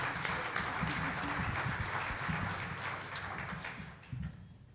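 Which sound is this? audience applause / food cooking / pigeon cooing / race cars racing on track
audience applause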